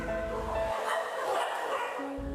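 Dogs at the Ocean Project animal shelter bark and yip in a short burst, with a steady mid-level mix of yapping and whimpering noise that runs throughout, no speech over it.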